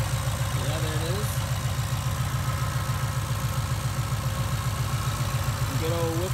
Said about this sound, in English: Good old Whipple Supercharger.